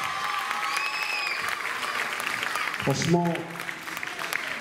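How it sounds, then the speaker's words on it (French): Audience applause for Kadi Fofana at a hip-hop event, a sustained wash of clapping from a crowd heard under someone speaking, with a brief whistle-like tone midway. "Applaudissements pour Kadi Fofana s'il vous plaît."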